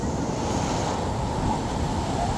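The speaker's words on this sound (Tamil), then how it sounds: "பாருங்க தண்ணி அடிக்குது." Continuous rushing surf and water washing against rocks on the Goa coast, steady and full, with wind noise over the microphone and no voices.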